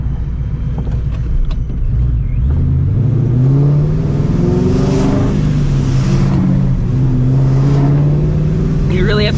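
A supercharged 450 hp 2V Mustang GT with an aggressive McLeod clutch, heard from inside the car as the engine note drops and then rises in a loud, deep rev, with wind noise throughout.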